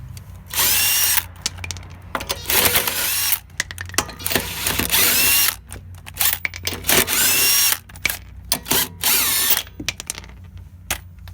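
A power tool spins car wheel lug nuts loose during a tire change, in a series of loud whirring bursts separated by short pauses, close up and with no talking.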